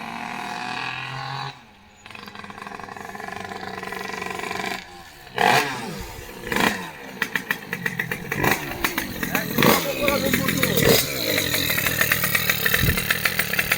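A Derbi motorcycle engine being broken in runs and revs in short repeated bursts, close and loud, with a sharp two-stroke buzz that builds toward the end.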